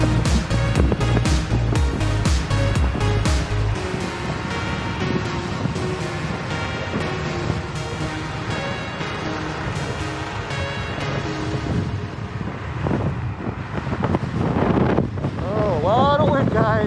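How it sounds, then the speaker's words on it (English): Strong wind buffets the microphone during a fast Kaabo Mantis electric scooter ride on the Golden Gate Park Polo Fields track, a loud, continuous roar and rumble that swells and gusts throughout. "Oh, a lot of wind, guys. A lot of wind."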